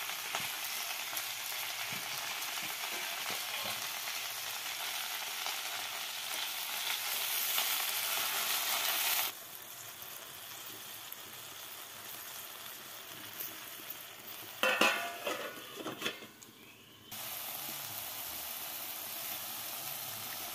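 Leafy greens fry in a pan with a steady hiss that drops off abruptly partway through, then returns after a brief clatter.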